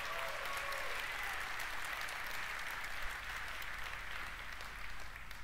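Steady, dense applause from a large audience at an Nvidia live presentation, continuous clapping at even loudness throughout with a low hum underneath.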